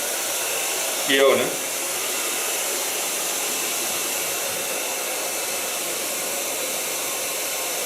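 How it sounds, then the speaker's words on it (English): A blow dryer runs steadily on curly hair in a salon, a constant airy whoosh lasting the whole stretch, with a brief voice near the start. "now I'm gonna blow dry it with the new blow dryer"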